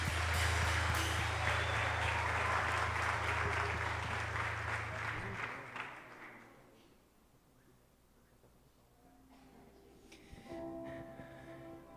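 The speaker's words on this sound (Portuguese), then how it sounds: "Dá uma salva de palmas para Deus que Ele merece." A church congregation at a Sunday worship service claps in loud, sustained applause for about five seconds over a low held organ or keyboard tone, then fades into quiet room murmur with faint voices toward the end.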